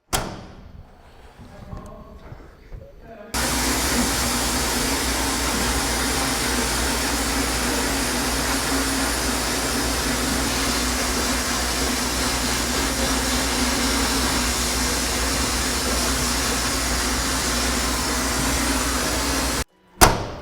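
A Vapor Honing Technologies 1000 HD vapor honing machine blasts a Chaparral engine part, giving a loud, steady broadband hiss and rush. It starts abruptly after a few quieter seconds and runs almost unbroken to a sudden stop near the end.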